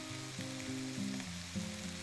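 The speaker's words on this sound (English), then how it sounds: "The fat is sizzling." Fat sizzling in a frying pan, a close, steady crackle with soft bubbling, heard alone for a couple of seconds.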